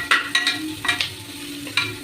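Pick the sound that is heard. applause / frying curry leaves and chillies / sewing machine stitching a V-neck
frying curry leaves and chillies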